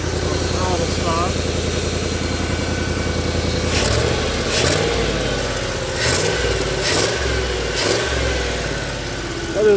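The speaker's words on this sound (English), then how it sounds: "Other than that exhaust leak, it sounds pretty good." A computer-controlled car engine running on propane idles steadily with a rough, puffing exhaust leak, loud and close, while a person talks over it and a few sharp knocks break in partway through.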